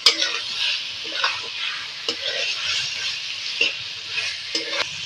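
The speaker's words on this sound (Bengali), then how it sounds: "ভেজে রাখা আলু দিয়ে দেবো নেড়ে চেড়ে মশলাটা মিশিয়ে নেবো" Fried potatoes being stirred into cooked-down spice masala in a pan for aloo dum, a steady oily sizzle with repeated scraping strokes of a spatula, close and clear.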